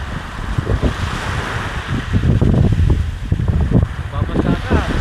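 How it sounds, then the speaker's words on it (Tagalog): Ocean waves rolling onto a beach at Atanacia Beach Park in Pandan, Alaminos, with rushing surf and heavy wind buffeting the microphone, continuous and fairly loud, while people chat nearby. "Malakas pa kasi yung alon."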